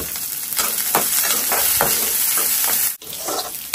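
Onion tipped into a pan of sizzling chana dal sets off a loud, close, hissing fry with a few scrapes of stirring, then a sudden brief dip before the sizzle surges back; no one speaks.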